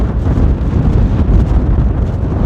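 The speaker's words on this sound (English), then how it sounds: "it's still a little windy" Steady, heavy wind buffeting a microphone on the Pennine Way hills: a loud, continuous low roar with gusty rumble throughout and no voices.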